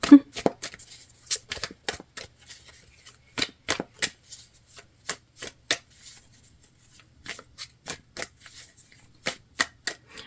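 A deck of tarot cards is shuffled by hand, giving crisp, close riffling clicks and flutters that come in irregular bursts separated by brief quiet gaps.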